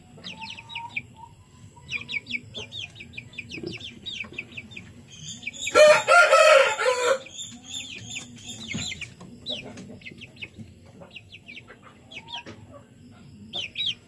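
Young gamefowl stags clucking and chirping steadily while eating, with a loud burst of flapping or scuffling in the middle and a crow-like call, close by with no talk.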